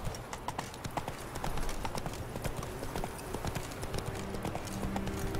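Horse hooves clip-clopping in the video game The Witcher 3 while riding through swampy terrain: a quick, steady trot of close, loud hoofbeats runs the whole time, with a faint voice in the background.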